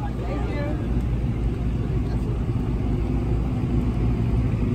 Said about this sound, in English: Here comes Nash. Looks like he's cooled down, gassed up the bike